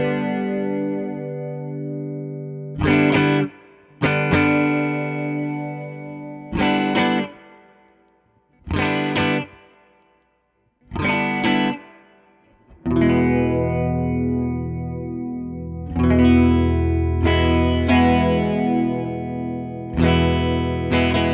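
Electric guitar played through an OBNE Black Fountain Stereo delay pedal with depth up and rate low, strummed chords and notes in bursts separated by pauses, each ringing out with lush modulated repeats and decaying tails.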